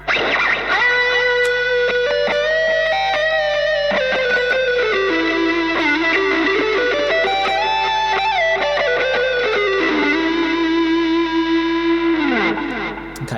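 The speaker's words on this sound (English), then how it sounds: "if we want to add some reverb, we move it, dial down to reverb, click the effect type, we've got a whole room," An electric guitar plays through a Zoom G2.1Nu multi-effects pedal set to arena reverb, giving loud, distorted sustained notes and sliding bends that ring out with a wide, washy tail. No voices are heard.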